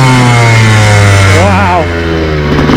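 A 2002 Honda CR125 two-stroke dirt bike engine drones steadily up close while riding, with a brief rising-falling rev warble midway, heavy wind rumble throughout and no talk.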